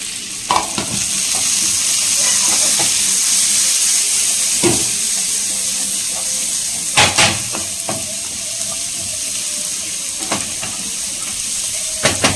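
Diced onion and green capsicum sautéing in a pan for pasta, a loud steady sizzle with intermittent scraping stirs and a few clattering knocks against the pan.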